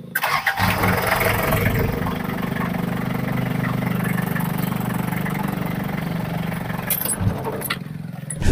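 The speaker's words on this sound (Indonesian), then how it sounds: "Nah, ini sudah mati, kita nyalain." A Daihatsu Taft GT 4x4 diesel engine cranks and fires, then settles into a loud, steady, rattling idle close by for several seconds, with a brief change near the end.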